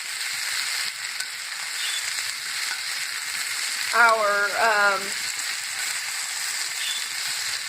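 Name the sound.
potatoes frying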